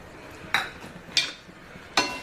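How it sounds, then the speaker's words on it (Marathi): A spoon scrapes and clinks against a pan three times, evenly spaced, while stuffed okra (bharli bhendi) is mixed with leftover masala, close and fairly quiet over low background hiss. "व्यवस्थित अशी आपल्याला मिक्स करून घ्यायची"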